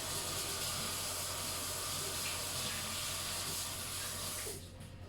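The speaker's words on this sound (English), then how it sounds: "I'm just going to give my hands a quick wash" A kitchen tap runs in a steady, close hiss of flowing water while hands are washed, cutting off abruptly just before the end.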